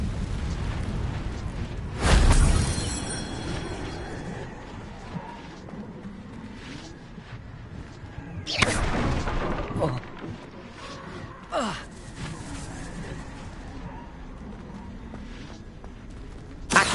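Incendio fire spell cast in the video game Hogwarts Legacy, heard as a loud whooshing burst of flame near the start, followed by a second fiery blast and a smaller pop over a low game backdrop.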